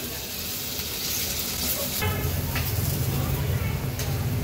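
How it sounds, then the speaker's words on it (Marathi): Half-boiled potatoes sauté in a pan for poha with a steady sizzle that grows fuller partway through, with occasional stirring scrapes close by. "हे जे हाफ बॉइल केलेले बटाटे आहेत ते आपण ऍड करणार आहोत ह्याच्यात आणि थोडे परतून घ्यायचे आहेत"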